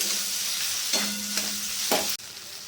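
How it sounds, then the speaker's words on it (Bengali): Fried fish heads tipped into a hot pan of dal base hiss and sizzle in a steady, close wash of frying noise, with a couple of brief scrape accents and a sudden drop near the end. "এবার দিয়ে দেবো মাছের মাথাগুলো ভালো করে ভেজে নিয়েছি"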